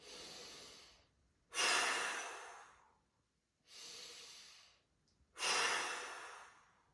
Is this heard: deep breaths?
yes